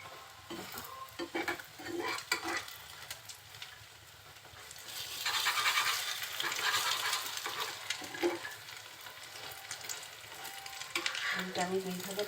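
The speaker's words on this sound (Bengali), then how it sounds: "অন্য পাশটাও খুব সুন্দরভাবে ভেজে নিব।" Two eggs frying in a kadai for a Bengali egg fry, a steady sizzle with stirring scrapes that swells louder midway, close and continuous with no voices.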